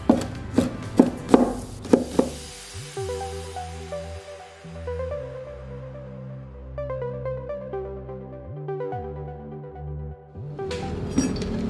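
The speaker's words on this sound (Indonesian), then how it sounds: "Bawang putihnya dikeprek dan dicincang halus." A knife crushes and finely chops garlic on a board, giving a few quick, close knocks at the start, then a long ringing, humming stretch and more clatter at the end.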